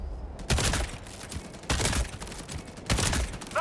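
Three loud bursts of video game gunfire in a sci-fi bug-fighting mission, each salvo a rapid cluster of shots roughly a second apart, with quiet gaps between.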